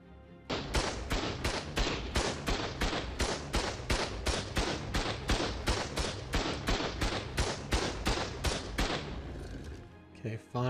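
Turrets in Ark Survival Ascended firing during a base raid, a rapid, relentless stream of loud gunshots in even rhythm for about ten seconds before cutting off.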